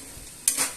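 Garlic frying in a pan: a soft, steady sizzle, then a brief louder hiss as the food is stirred.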